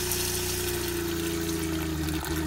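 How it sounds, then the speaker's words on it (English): An on-demand water pump in a tiny house runs with a steady close electric hum and buzzing drone, water rushing through the plumbing under it, unbroken across the clip with no talking. "go over here, and we'll turn on our pump"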